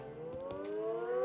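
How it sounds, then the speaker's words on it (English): A tornado warning siren in Minecraft gives a faint, rising civil-defense wail that slowly swells in pitch and volume. Nothing else can be heard beside it. "The siren's already going off."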